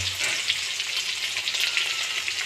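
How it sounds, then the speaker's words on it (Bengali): Chicken lollipops frying in pure mustard oil in a wok make a dense, even crackling sizzle, close and continuous, with faint stirring underneath and no talking. "কড়াইতে ভাজানো হচ্ছে"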